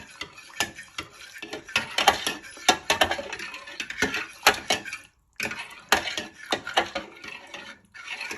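Beef and mushroom noodle soup being stirred in a pot, with repeated clinks and scrapes of a utensil against the pot, fairly close and irregular, with a brief pause partway through.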